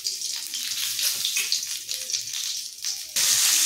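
Bay leaves and black cumin seeds hit hot oil in a kadai over a high gas flame, a steady close crackling sizzle that surges louder near the end.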